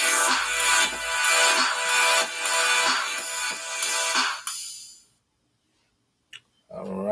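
A mobile phone ringtone plays loud and close in repeating melodic bursts for several seconds, then cuts off into near silence before a brief click and a voice at the end.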